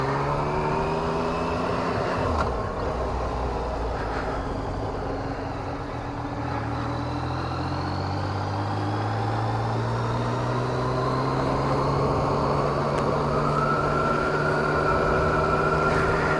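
A 2017 Yamaha FZ-09 motorcycle hums along back roads at night, its engine note steady with gear changes and rising, falling pitch over wind noise.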